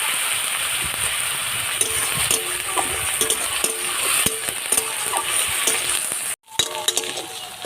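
Grated onion frying in a pan while preparing chingri malai curry, a steady bright sizzle with scattered clinks and scraping stirs of a spatula, close and continuous, with a brief dropout near the end before the sizzle resumes.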